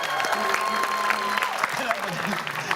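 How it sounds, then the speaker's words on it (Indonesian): A studio audience on an Indonesian TV comedy show claps briefly amid busy background noise and music, with voices mixed in. "Tepuk tangan."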